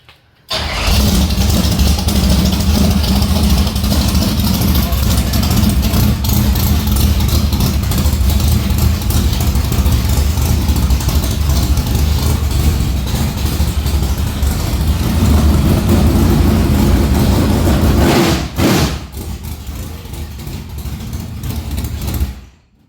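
A race car engine fires up and idles loud and close, a harsh continuous roar sustained for most of the time, then a brief cut and a lower rumbling idle near the end.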